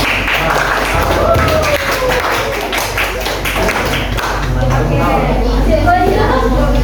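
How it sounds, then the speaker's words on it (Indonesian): Classroom applause from a group of students for classmates' presentation, a dense steady patter of clapping running throughout under overlapping chatter and voices. "coba beri tepuk tangan dulu untuk temannya"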